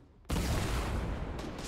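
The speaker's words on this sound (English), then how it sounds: "An absolute nutty explosion." A sudden loud blast in the Fortnite game hits after a short quiet moment, then a dense roaring burst of debris and noise that holds to the end.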